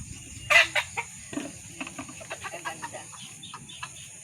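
A rooster clucks several times nearby, one louder call followed by a string of short, soft clucks spaced irregularly.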